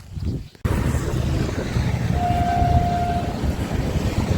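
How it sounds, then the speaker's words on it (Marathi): A train rumbles past steadily and close, with a brief horn-like tone sounding in the middle of the pass. "रेस लावू का ट्रेनची"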